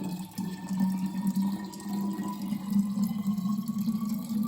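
Hot water pours steadily into a bottle, a continuous gurgling fill with a faint rising tone throughout.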